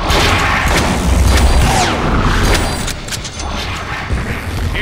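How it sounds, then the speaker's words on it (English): Heavy booming shotgun blasts in the Deadpool action game, loud and close, with a big hit early on and crashing debris and mechanical clatter trailing after. "Oh yeah, it's shotgun time."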